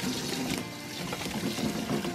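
Cold water pours steadily into a big bowl of berries, a continuous splashing trickle that is close and fairly loud, with no one talking over it.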